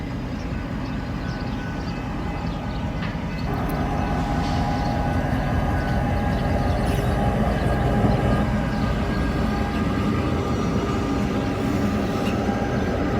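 A local freight train led by locomotives rolls slowly past, heading out for the day, giving a steady loud rumble and rail clatter that holds at an even level for the whole stretch.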